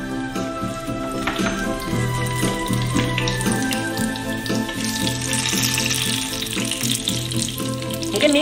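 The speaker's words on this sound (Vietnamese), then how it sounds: "chiên với dạng lửa riu riu như vậy luôn." Eggplant pieces fry in oil over low heat for a fried eggplant with scallion oil dish, a soft steady sizzle running throughout alongside a faint watery hiss and light clinks, with no talking.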